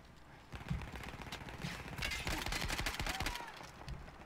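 Automatic machine-gun fire from the World War I shooter Battlefield 1 rattles in dense, overlapping bursts, moderately loud, with scattered distant shots layered in the background.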